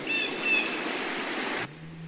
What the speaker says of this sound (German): Jetzt regnet es aber ganz schön heftig hier.